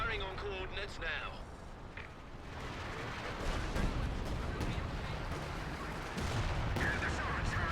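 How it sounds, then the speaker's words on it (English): Artillery barrage in a Company of Heroes 2 four-versus-four match, distant rumbling shell fire and booms rolling continuously beneath game radio voices. "Coordinated artillery fire is on the way. RA batteries firing on coordinates now."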